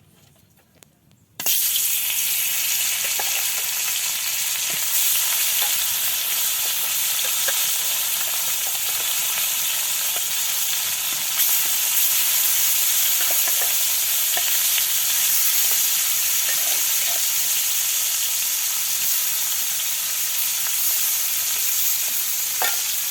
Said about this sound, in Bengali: এবার হলুদ লবণ মরিচ দিয়ে মেখে রাখা এই মাছগুলো দিয়ে দেবে গরম তেলে।